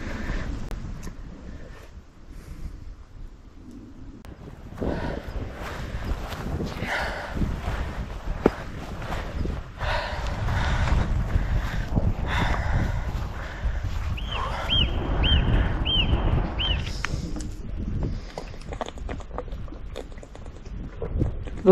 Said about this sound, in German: So, ich hoffe, man hört mich trotz des Windes.